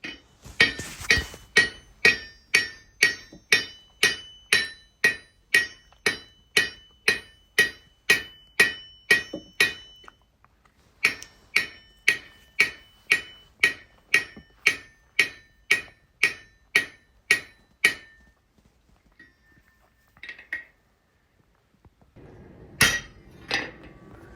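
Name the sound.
hammering a rivet on a forged scrolled sign bracket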